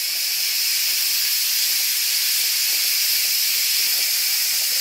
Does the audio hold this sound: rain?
no